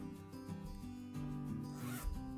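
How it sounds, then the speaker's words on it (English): A skirt's zip is drawn open in one continuous rasping pull, close and fairly quiet, with no voices. "you open the zip, right."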